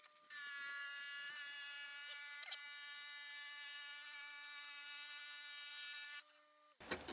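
Wet tile saw cutting a piece of thin glossy porcelain tile: a steady, loud high-pitched whine with dense tonal overtones runs for about six seconds, then drops away abruptly as the cut finishes.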